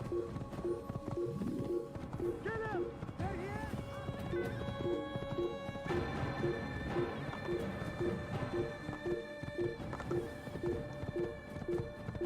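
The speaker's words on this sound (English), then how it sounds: "Try chasing me while I'm on a horse." Hoofbeats of a galloping horse in Assassin's Creed, a steady rhythmic clip-clop over game music and ambience, with a voice talking over it.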